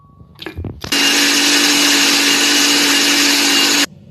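A kitchen blender mixing fruit juice for a drink roars loudly and steadily for about three seconds after a brief start-up, then cuts off abruptly.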